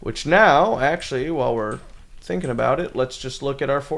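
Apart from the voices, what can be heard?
No everyday noises stand out.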